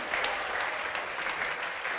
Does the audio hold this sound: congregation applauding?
yes